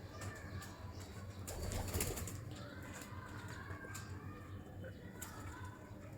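Breeder pigeons in a loft flutter and coo in a soft, distant jumble, with scattered wing flaps and rustles over a low murmur of background noise.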